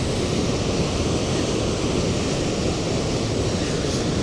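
Ice-cold water rushing down through Marble Canyon in Kootenay National Park, British Columbia, heard from a small bridge above as a loud, unbroken roar of torrent with faint wind noise.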